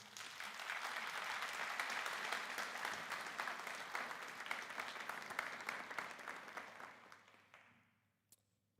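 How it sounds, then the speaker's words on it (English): Crowd at a Delaware State Police graduation ceremony applauds the award winners, a full, even patter of many hands that gradually fades out near the end, recorded at a low level. "a round of applause for our award winners"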